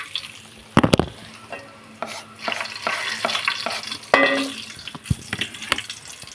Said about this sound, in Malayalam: അപ്പോൾ ചുവന്ന മുളക് അതിനകത്തോട്ട് തട്ടി.